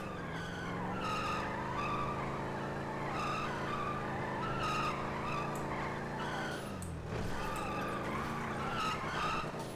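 A car drifting in GTA 5 with the Redux mod, tyres squealing steadily over a droning engine, with a brief dip in pitch before the skid resumes. Heard alone, without voices.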